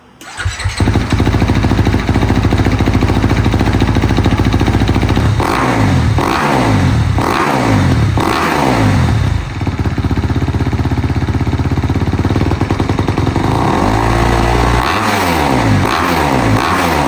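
A Kawasaki KX250 dirt bike with its stock exhaust pipe fires up and runs close and loud, with a series of sharp throttle revs rising and falling, then a steady idle, then more quick revs near the end.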